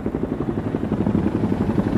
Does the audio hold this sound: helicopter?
yes